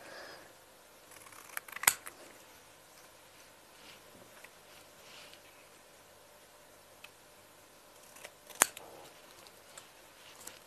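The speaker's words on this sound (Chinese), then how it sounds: "现在我们拿起剪刀来对它进行最后的调整。" Scissors snip at folded paper while a paper giraffe is trimmed, giving two distinct crisp cuts spaced far apart, with faint rustling and handling noise in between against a quiet background.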